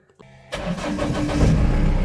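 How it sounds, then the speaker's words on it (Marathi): An old car's engine cranks briefly and catches, then settles into a loud, steady close idle after a short quiet lead-in with light clicks. "तर आपली जुनीवाली आपण गाडी घेऊन चाललोय."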